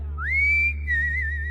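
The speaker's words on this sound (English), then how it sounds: "high whistle." A long, high whistle from a person, starting with a quick upward slide, holding a steady pitch, a brief break, then a second wavering stretch over a low background hum.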